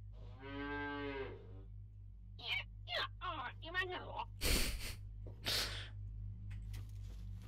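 A cow moos loudly during an alien cow abduction in the video game Fallout 3, one long harmonic low call near the start, followed by sharp synthetic game effects and whooshes over a steady low hum.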